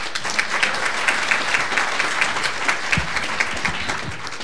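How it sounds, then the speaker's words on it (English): A conference audience at a medical cannabis unity event applauds the opening panel, a loud, steady stretch of many hands clapping with a few low thumps near the end. "can we give everyone another round of applause?"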